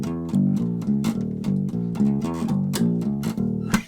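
A plucked guitar plays a repeating bass line while out of tune, with steady, evenly spaced notes ringing close and clear with no talking.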